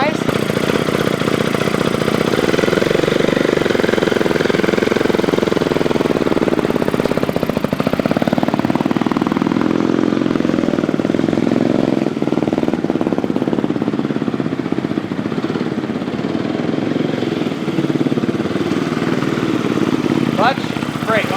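A dirt bike engine runs steadily and loudly up close for about twenty seconds, a continuous buzzing drone that shifts slightly in pitch.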